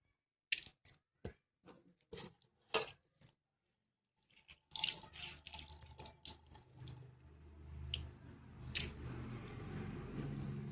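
A few soft wet squishes, then water trickling and splashing as soaked soybean chunks are squeezed out by hand, close and quiet.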